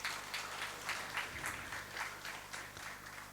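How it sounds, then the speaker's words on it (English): Applause at a workshop event, steady faint clapping from a modest audience with rhythmic swells, continuous throughout and without talk. "So a big round of applause"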